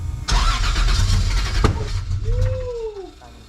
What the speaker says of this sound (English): That is the most I've ever heard out of this car.